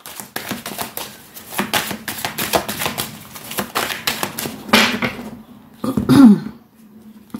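A deck of tarot cards is cut and shuffled in a series of quick, crisp riffling and tapping card sounds, with a brief louder flurry near the end.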